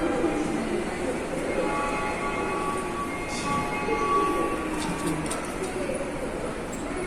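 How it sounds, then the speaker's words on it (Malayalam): Platform ambience at a Tokyo train station on the Shinjuku line, with a steady rumble of rail traffic, faint hiss, a few light clicks and birds, and distant voices in the background. "നമ്മൾ പ്ലാറ്റ്ഫോം 1-ലാണ്. ഷിൻജൂക്കു ലൈൻ അങ്ങോട്ട്, ഷിൻജൂക്കു സ്റ്റേഷൻ അങ്ങോട്ടേക്കാണ്."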